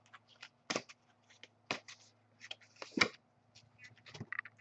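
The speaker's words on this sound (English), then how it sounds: "As I shuffle these cards" Tarot and oracle cards are shuffled by hand in quiet, irregular papery riffles and taps, close and soft, with no talking.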